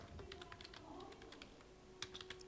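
Light typing on a computer keyboard, a few short runs of soft clicks with a pause between them and a quicker burst near the end, quiet and close.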